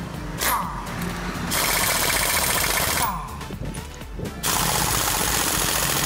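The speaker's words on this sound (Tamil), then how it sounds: "இப்போ பாருங்கள், கிளச் ஷூ ஸ்லிப் ஆகாமல் எப்படி ஸ்பீடாக பைக் வீல் சுற்றுது" A scooter engine revving hard after a clutch shoe repair, its rear wheel spinning freely; a loud, rough mechanical roar with rattling that dips briefly and then surges back.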